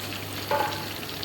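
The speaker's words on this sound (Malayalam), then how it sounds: "ഇത് വെള്ളച്ചോറിനാണ്. വെള്ളം തിളച്ചിട്ടുണ്ട് കേട്ടോ." Water for rice comes to a boil in a pot, making a brief close bubbling, sizzling hiss with a short louder burst partway through and no speech.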